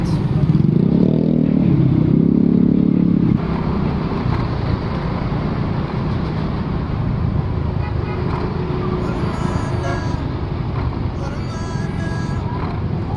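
A motorcycle riding on a road, heard from the rider's position as a steady engine drone with wind and traffic roar. It is louder at first, then settles into a constant hum with light rattles.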